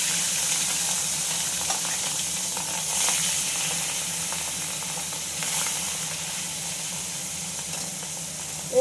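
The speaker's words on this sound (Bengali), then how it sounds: "এই মাছ দু পিসও আমি হালকা ভেজে নামিয়ে নেব।" Two pieces of fish frying lightly in hot oil in a home kitchen, giving a steady, close sizzle and hiss with brief swells of spitting, heard alone without talk.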